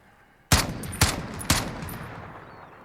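An MK 14 EBR rifle firing in Call of Duty Modern Warfare, three loud evenly spaced single shots about half a second apart, each with a ringing echoing tail.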